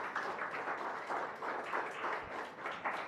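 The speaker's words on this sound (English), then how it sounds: "Please give him a big round of applause" Applause from the audience at a national packaging innovation conference as a Procter & Gamble executive is invited onto the dais, a full, steady round of many hands clapping, swelling slightly in waves without any speech.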